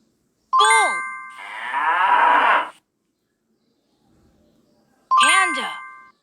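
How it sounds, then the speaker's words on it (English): A bull mooing in a short animal-sounds game, one long low moo, set between bright chime tones at the start and end. "Bull."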